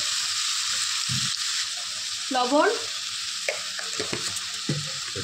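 Bottle gourd sizzles steadily in hot oil in a pan, with a few scraping stirs of a spatula, close and continuous, under a brief murmur of talk.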